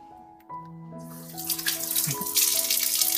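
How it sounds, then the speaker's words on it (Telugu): Water starts running through a home water purifier, a faint electronic tone giving way to a growing steady hiss of flowing water, close and unbroken, with no talking. "దీన్ని టర్న్ ఆన్ చేసుకొని, సో వాటర్ అనేది ఫ్లో అవుతాయి"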